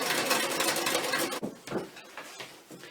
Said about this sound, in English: Number 9 the sewing machine.